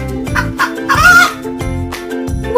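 A hen clucks in a series of short, close, fairly loud calls, rising into a longer squawking cackle midway before settling back into brief clucks, with no other sounds around it.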